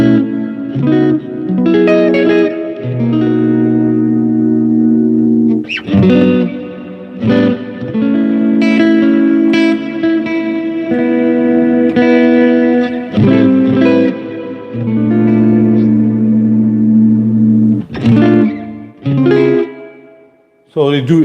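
An electric guitar runs through a Strymon Volante delay pedal, sustained chords and single notes ringing out with echo, repeats and heavy effects, loud and close with brief pauses between phrases.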